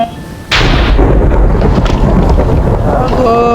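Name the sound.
thunder from lightning strikes in Minecraft video game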